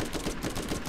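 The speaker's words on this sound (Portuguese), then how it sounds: "Não, acabei de atirar no Edu, droga" Rapid gunfire from the Borderlands video game, a burst of sharp repeated shots in quick succession, loud and close with no voices over it.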